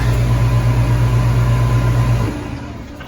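A switch turns on an attic exhaust ventilation fan in a DIY indoor outboard motor test tank setup. It gives a loud, steady motor hum and whoosh, then drops and changes pitch near the end.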